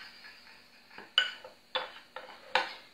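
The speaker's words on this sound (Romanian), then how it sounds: "Și am să le amestec încet." A spoon slowly stirs a flaxseed hair mask mixture with starch and olive oil in a bowl, giving four or five soft, evenly spaced clinks and scrapes against the container, close and quiet.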